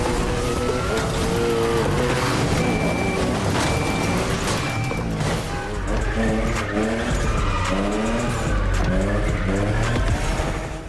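Cars drifting in a racing video game, with continuous loud tire squeal and skidding over revving engines, sustained throughout with sliding pitch changes.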